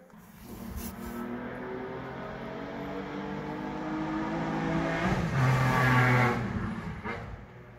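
A Porsche rally car races past on a Targa Tasmania stage at Weldborough Pass, its engine note climbing from a distant drone to a loud, close, high-revving roar as it passes, then fading away.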